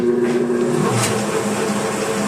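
A LeBlond Regal lathe spindle runs at 179 RPM on 208 three-phase power, giving a loud, steady mechanical hum with constant tonal whine and no break.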